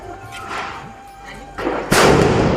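A firecracker bomb set off during Govardhan Puja celebrations bursts with a sharp, loud bang near the end, preceded by muffled thumps and faint background voices.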